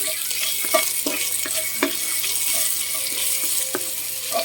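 Ingredients for shrimp glass noodles being stir-fried in a pan: a steady close sizzle broken by frequent clicks and scrapes of the utensil against the pan, with no talking.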